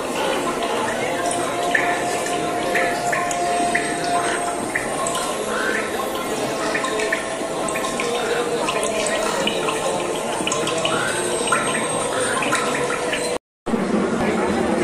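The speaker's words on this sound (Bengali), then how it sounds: "আলটিমেটলি জলটা নিচের দিকে পড়ছে" Water falls steadily from a moving Durga Puja pandal structure, a continuous splashing rush heard amid crowd noise and a voice talking over it.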